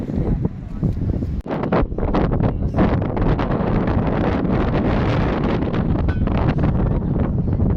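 Strong wind on a mountain at night buffets the microphone in a continuous rough roar with gusty surges, loud and close throughout.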